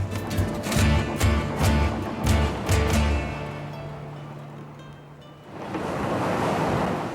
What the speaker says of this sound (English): The sea's getting rougher in open water